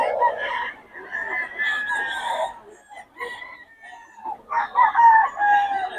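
A Boston Sweater gamefowl rooster crows several times at close range, with long strained calls and some clucking between them.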